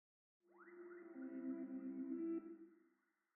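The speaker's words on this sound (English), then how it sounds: "I took off a piece of the acoustic guitar" A reversed, panned snippet of acoustic guitar swells in gradually with a rising, smeared attack and sustained chord tones, then fades away, quiet and alone.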